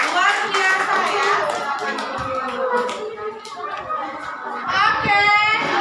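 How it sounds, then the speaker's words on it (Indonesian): A classroom of children clapping together in applause, brisk uneven hand claps mixed with excited kids' voices and chatter, rising again near the end. "Tepuk tangan dulu"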